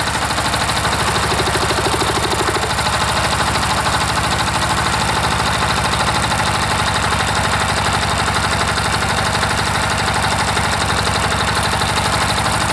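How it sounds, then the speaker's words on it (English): A single-cylinder diesel engine idles low, a loud, close, steady rapid thumping and rattling that runs unbroken throughout, with no voices. "Let's see how low I can get it to idle here."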